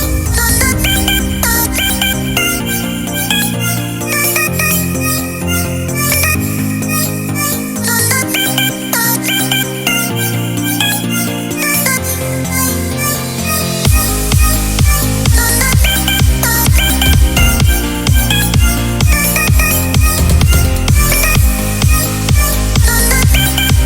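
Dense electronic drum break programmed in FL Studio, with kicks, claps, percussion and effects stacked over bright synth chords. It plays loud and continuous, and a heavier low kick section enters halfway through.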